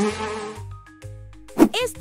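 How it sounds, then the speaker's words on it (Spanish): A bee buzzing in a short, close, steady drone at the start, followed by a few softer scattered sounds. "Este es el sonido que hace la abeja."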